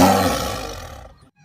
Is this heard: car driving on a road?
no